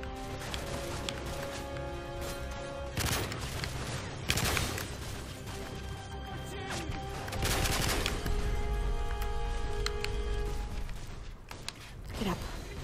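Gunfire in the video game Modern Warfare 3, with scattered shots and bursts through a busy battle mix, some louder cracks standing out over steady background noise.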